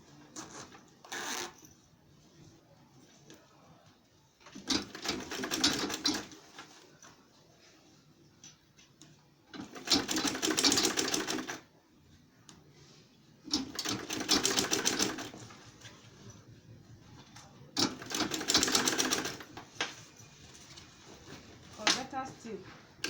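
Sewing machine stitching the seams of an insulated lunch bag, sounding in four or five separate bursts of rapid mechanical clatter spaced several seconds apart, with quiet handling noise between the runs.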